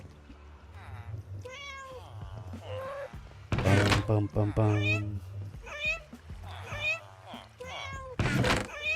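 A cat meows in a Minecraft iron farm, its drawn-out cries mixed with a person talking and humming throughout.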